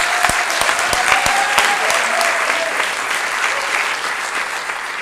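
Audience at an improv festival in Paris applauding the players, a dense, steady round of clapping that starts with a few sharp claps and settles into a continuous wash, with a voice briefly heard over it.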